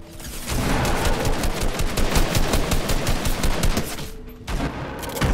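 Rapid automatic gunfire from a Fortnite match, dense bursts of shots firing almost continuously with a brief pause near the end before shooting resumes.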